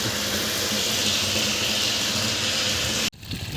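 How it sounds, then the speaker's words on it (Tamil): Water gushes steadily and loudly from a 1.25-inch pipe on a 1040-foot borewell driven by a 5HP AC motor, pouring into a tank as a dense continuous roar that cuts off abruptly near the end. "தண்ணி நல்லாவே ஊற்றிக்கிட்டு இருக்குது"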